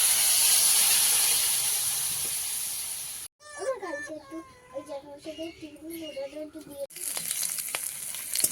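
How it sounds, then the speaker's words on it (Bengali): Pieces of jackfruit and potato, coated in salt and turmeric, fry lightly in hot oil with a loud, steady hiss. The sizzle stops briefly while a voice talks nearby, then returns. "কাঁঠালের আলুটা এখন একটু আমি হালকা ভেজে তুলে নিচ্ছি"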